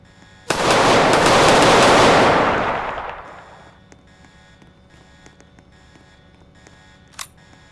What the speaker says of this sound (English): Why you shooting at me?